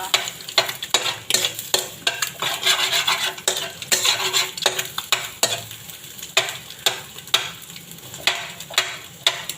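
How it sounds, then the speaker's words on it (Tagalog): Garlic sautéing in a little oil gives a steady sizzle broken by repeated scraping and clattering of a utensil stirring against the pan, close and busy throughout with no talking. "Igisa ko na yung bawang"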